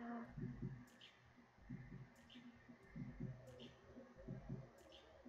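A steady, faint heartbeat from the video game Let It Die, thumping as regular double beats about once a second over a low ambient hum.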